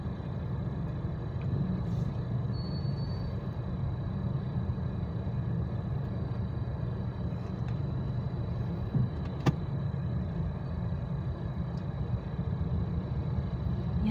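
Steady drone of heavy road traffic during a town fiesta in Pook, Agoncillo, Batangas, with a continuous low rumble of engines throughout and one brief sharp click near the middle.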